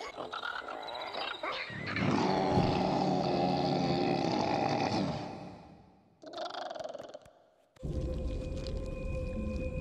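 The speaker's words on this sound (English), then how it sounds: "Swamps get noisy at night." Swamp at night full of animal noises: deep moaning, growling calls swell and fade over several seconds, followed by a brief separate cry and then a steady low droning chorus, close and fairly loud.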